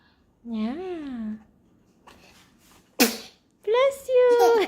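A baby sneezes in a quick burst, close and fairly loud, between an adult's cooing voice and other talk at home.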